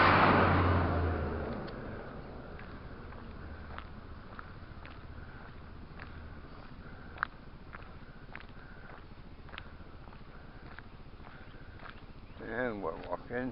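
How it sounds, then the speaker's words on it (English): A school bus passes close by on a road and its loud rumble fades away within a couple of seconds. Faint footsteps and quiet outdoor ambience follow. "School bus. It's gonna be loud."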